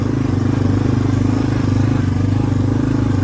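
A 1993 Yamaha Big Bear ATV engine drones loud and steady while riding in third gear, a close, even rumble with a fast pulsing throb and no pauses.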